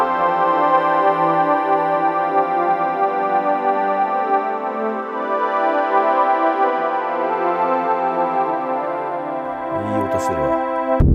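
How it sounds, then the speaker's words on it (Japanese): A lush, sustained synth pad preset from a CyberStep KDJ-ONE portable music studio, holding rich layered chords steadily and loudly for about ten seconds before a brief noisy shift at the end, with no talking. "美しいパッド。"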